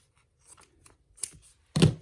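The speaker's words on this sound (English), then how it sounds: "I'm gonna cut a little bit off because I want my tape to go all the way" Scissors cut a strip of painter's tape up close with a few light snips, then one louder crisp cut near the end, quiet and without talk.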